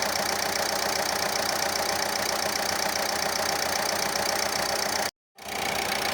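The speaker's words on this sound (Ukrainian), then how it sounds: "Чекаємо, поки двигун пригріється." A Renault Laguna 3 engine idles steadily while warming up after bleeding air from the cooling system, a low, even rumble and hum, broken by a brief dropout near the end.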